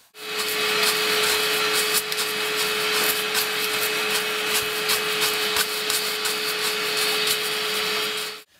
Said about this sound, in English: So the best way, using a brush and a hoover